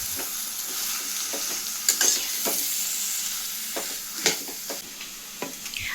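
Quail pieces being mixed with masala in a pan for gravy, a steady close sizzle broken by repeated sharp spoon scrapes and clinks against the pan, with no talking.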